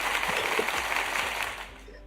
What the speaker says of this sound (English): Big round of applause for Om